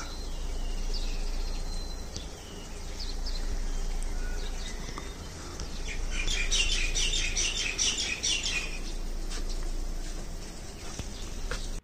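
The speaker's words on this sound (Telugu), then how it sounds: "పక్షులు కిచిక్ కిచిక్ అంటూ పొద్దున్నే అరుస్తూ ఉంటే చాలా బాగుంది వాతావరణం" Birds chirp and twitter from a distance outdoors in the morning in Shimla, with a brief burst of busier high calls midway over a soft steady background hiss.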